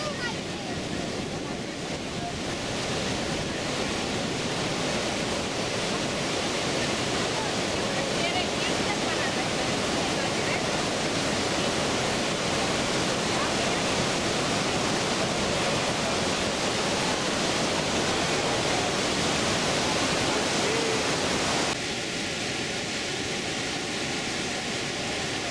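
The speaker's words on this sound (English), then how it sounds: "the flow of the river looks so powerful" The Niagara River rushes powerfully near the falls, heard from a pedestrian bridge to Goat Island as a loud, unbroken roar of churning water with wind buffeting the microphone. Voices are faintly present.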